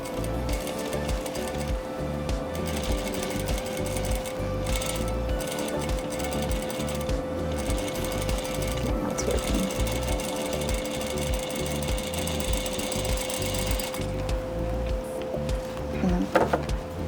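A sewing machine fitted with a roller foot stitches a tiny 1/16-inch rolled hem, its motor whirring steadily and continuously at close range with no voices.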